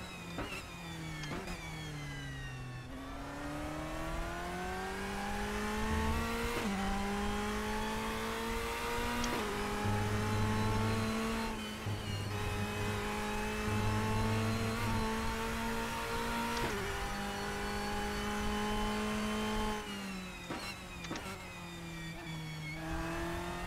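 A Ferrari race car's engine in the RaceRoom racing game screams steadily at high revs, rising through the gears with brief dips at each shift, loud and continuous for the whole stretch with no talking over it.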